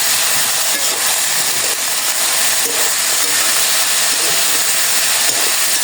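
Spiced food sizzles in a pan, seasoned with salt, turmeric and green chilli, giving a loud, steady hiss with faint crackles throughout and no talking.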